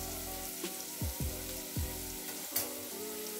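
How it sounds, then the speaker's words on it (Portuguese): Food sautéing in a pan, a steady sizzle with a few stirring scrapes partway through, heard close with no talking. "Deu uma refogadinha aqui, ó."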